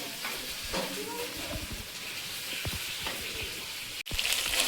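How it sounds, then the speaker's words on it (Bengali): Fish frying in a pan, a continuous dense sizzle with occasional soft stirring scrapes, close and moderately loud, ending in a brief break before the sizzle resumes; no speech. "মাছগুলো বেশি কড়া করে ভাজবো না, এবার তুলে নেব।"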